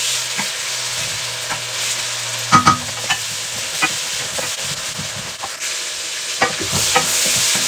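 Tomatoes caramelizing in a frying pan give a steady broadband sizzle, with occasional louder scrapes and clinks from stirring and a faint low hum running underneath.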